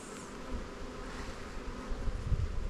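Honey bees swarm around an opened spring hive with honey supers on, their dense, steady buzzing filling the air, close and continuous with no voices.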